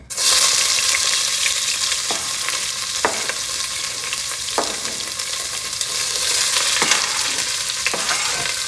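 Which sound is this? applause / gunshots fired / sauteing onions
sauteing onions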